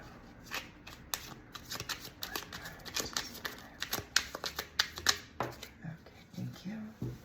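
Tarot cards being shuffled by hand close up: repeated crisp riffling and snapping bursts in an uneven rhythm throughout.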